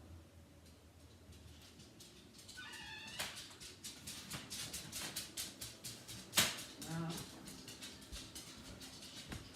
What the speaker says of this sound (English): Well, Nora knocked the door open, and here she comes in here.